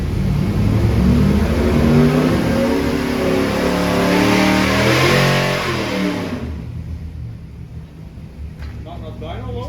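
Engine revving hard on a dynamometer during a dyno session, a loud sustained roar with rising and falling harmonics for about six seconds before dropping to a lower idle with faint background talk.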